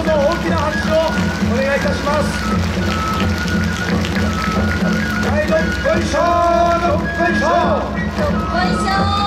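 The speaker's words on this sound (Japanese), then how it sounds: "どうぞ大きな拍手をお願いいたします。" A festival crowd at the Akita Kanto festival, performed at Furusato Matsuri Tokyo 2020, claps continuously in a dense, rain-like patter while an amplified voice talks over it.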